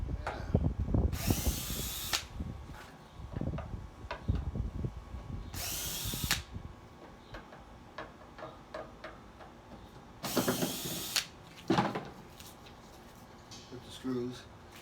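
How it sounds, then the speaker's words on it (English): A power drill backs screws out of a patio furniture base: three loud, high whines of roughly a second each, spaced apart, with ratcheting clicks and handling noise between them and a voice talking underneath. "Now I'm going to remove them from the base so that I can sand them a little better"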